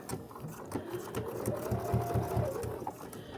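Sewing machine running steadily as it stitches a quarter-inch seam along a quilted potholder made from jelly roll strips, with a continuous close whir and a rapid needle rhythm, with no voices.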